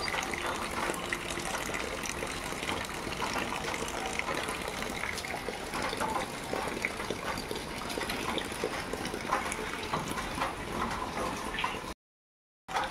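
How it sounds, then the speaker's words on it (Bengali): Light drizzling rain falls outside under a cloudy sky, a steady soft patter and trickle of water that continues evenly, then cuts off briefly near the end. "বাইরের ওয়েদার পুরো আকাশে মেঘ, ঠিক আছে, গুড়ি গুড়ি পড়েই যাচ্ছে।"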